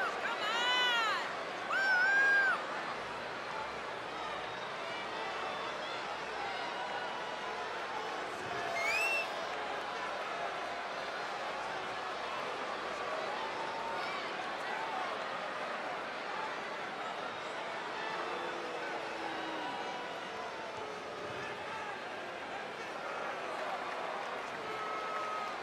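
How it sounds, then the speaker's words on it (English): A fired-up wrestling arena crowd at an NXT match roars in a steady, dense wall of cheering and babble, with a few brief louder whoops and whistles rising near the start and around nine seconds, continuous throughout. "Listen to this crowd, guys. They're fired up for this one."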